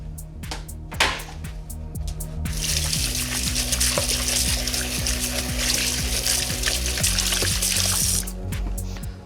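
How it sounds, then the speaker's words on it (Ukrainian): Running tap water pours in a steady, loud rush as a kitchen item is rinsed at the sink, preceded and followed by clinks and handling clatter, close up with no talk. "І тепер це треба промити просто водою."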